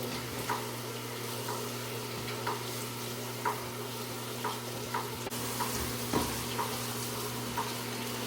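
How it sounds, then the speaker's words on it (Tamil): A soft, steady sizzle of chillies frying in oil with light periodic stirring taps, fairly quiet and without voices. "மிளகா பொரிக்கிறேன்"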